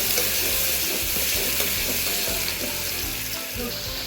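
Cumin and a prepared spice mix with raw peanuts hit very hot oil, giving a loud, close, unbroken sizzle with a low rumbling hiss underneath and no talk.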